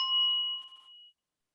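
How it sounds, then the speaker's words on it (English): A single bell struck once for a meditation exercise in a stress workshop rings out clear and close, its bright tone holding steady then decaying into silence after about a second. "Can you hear the bell?"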